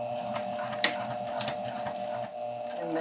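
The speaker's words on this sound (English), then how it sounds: "I'm going to take 2 stitches forward, 2 stitches back, and then top stitch all the way along that edge." A sewing machine top stitching along the edge of a lapped zipper, giving a steady close mechanical whir with a rapid, even stitching pulse.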